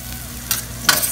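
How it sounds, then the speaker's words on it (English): Cherry tomatoes sautéing in a pan, a soft steady sizzle broken by two quick stirring scrapes, close up and without talking. "I'm just gonna saute it for 1 minute and let those get nice and soft."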